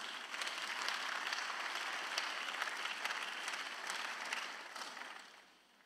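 Congregation applauding at a church service, a sustained wash of clapping at a fairly even level for several seconds before it tapers off quietly.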